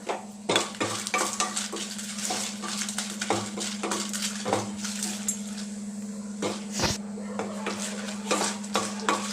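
Green chillies frying in a little oil in a pan for a chutney, stirred with a metal utensil: repeated close scraping clinks over a faint sizzle and a steady low hum.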